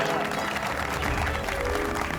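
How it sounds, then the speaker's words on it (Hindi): A small group in a residential society gathering claps steadily and fairly close for a couple of seconds, with voices mixed in over the applause. "सिर्फ ताली नहीं बजानी है"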